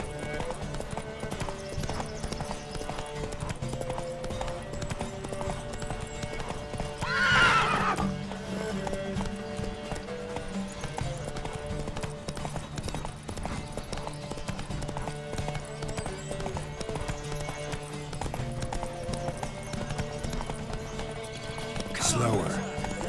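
Horses gallop during a race in The Witcher 3: Wild Hunt, with steady clip-clop hoofbeats running throughout. A sharp neigh rises midway and another near the end, over constant background game ambience.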